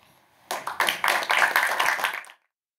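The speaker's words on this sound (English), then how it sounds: "Big round of applause for the TAs, Emil and Sam, and the AV team" A short burst of audience applause at a geospatial tech event, dense clapping from a small crowd that starts abruptly, holds for about two seconds and then cuts off cleanly into silence.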